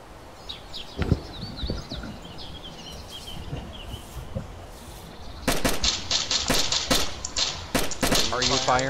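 Gunfire in the survival video game DayZ, with a few scattered single shots early on, then a dense run of rapid, loud shots. Voices talk among the shots.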